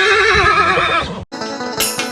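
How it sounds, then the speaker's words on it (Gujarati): A horse being led on a walk near Mogaldham Khiri gives a loud, close, wavering whinny, then after a short break a second neigh with a few faint hoof clops. "આપણે બીતા બીતા ઘોડાને પકડી તો લીધો"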